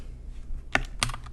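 Computer keyboard typing out a command, a few quick close key clicks in a short burst against a quiet background.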